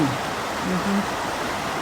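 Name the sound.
waterfall in Iceland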